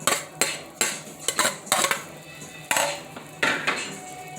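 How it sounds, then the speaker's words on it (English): Saltfish stirred in a metal pot for pumpkin cook-up rice, with loud repeated clanks and scrapes of a spoon against the pot in an uneven rhythm, close by and with no talking. "You just stir it around."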